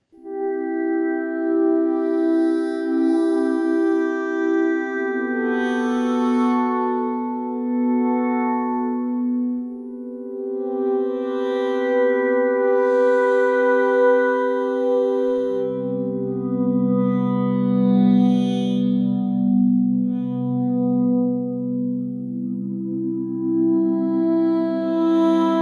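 Sustained chords on an Ashun Sound Machines Hydrasynth synthesizer played with MPE, the voicings shifting slowly with per-note bends and swells, rich harmonic tones with reverb, loud and alone without any talking.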